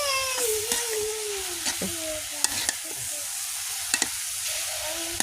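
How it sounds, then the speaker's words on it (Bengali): Leafy greens frying in a pan while being stirred, a steady broadband sizzle with scattered scraping clicks from the utensil, close and fairly quiet, with a faint whining tone running through. "এইভাবে নাড়তে হবে তাহলে মানে শাকটা ঝরঝরা হবে"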